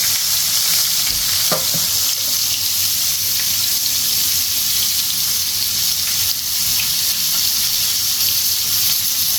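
Onions fry in oil in a pan with a steady, loud, continuous sizzle, and a brief clink of a utensil sounds early on.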